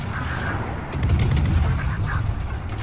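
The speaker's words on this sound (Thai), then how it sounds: "ยิงไปท้ายอีก" Naval gunfire in World of Warships, played as the Kitakaze destroyer: a steady low rumble of cannon fire with a louder burst of shots in the middle of the clip, and no talking over it.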